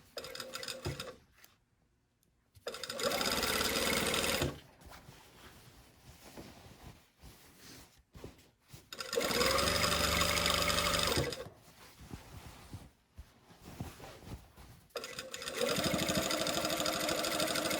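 A sewing machine stitches a line on a garment pocket in three separate bursts of steady mechanical whirring, each a few seconds long, with quiet pauses and handling between them.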